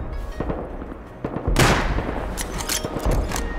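Semi-automatic pistol shots in the video game Rust crack out as separate sharp reports, several spaced irregularly, with one louder blast partway through amid ongoing combat noise.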